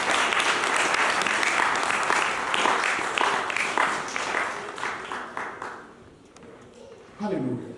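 A church congregation breaks into sustained, dense applause that fades gradually toward the end, then a brief voice rises over the last moments.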